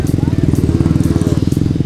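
Racing motorcycle ridden on a public road, its engine giving a steady loud pulsing drone with a rapid regular throb throughout.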